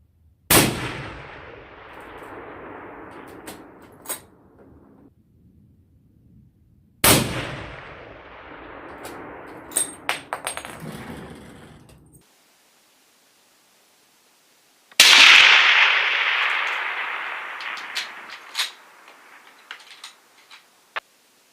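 A .300 Remington Ultra Magnum rifle fires Norma Bondstrike ammunition at a 1,000-yard range: three loud, sharp shots spaced several seconds apart, each followed by a rolling echo and faint clicks and handling noises, no talking.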